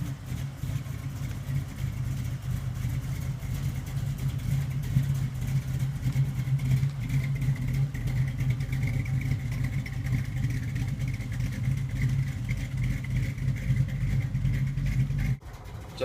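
A 1980 Camaro Z28 with a four-speed drives along, its engine a steady low rumble with road and wind noise from inside the car, cutting off abruptly at the end.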